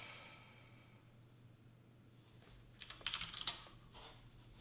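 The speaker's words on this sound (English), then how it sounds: "If I can type my password correctly." A computer keyboard being typed on: a short burst of quick key clicks after a quiet stretch, faint and close, with light breathing and no speech.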